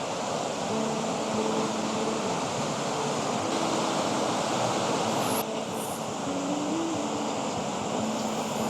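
A river runs through the mountains near Peja, Kosovo, giving a steady, loud, broadband rush of flowing water that continues unbroken with no voices.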